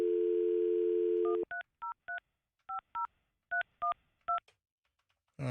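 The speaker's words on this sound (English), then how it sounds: "I'm calling on the studio line." A studio telephone line gives a steady dial tone, then a quick run of about eleven DTMF keypad beeps in uneven bursts, clear and close, ending with a soft click.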